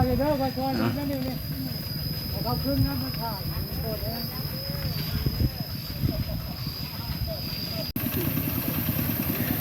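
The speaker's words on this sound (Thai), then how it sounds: "ใช้รถไถเดินตาม" Steady chugging walking tractor engine runs throughout at close range on a rough road in Laos, with a constant whine above it and people talking over the noise.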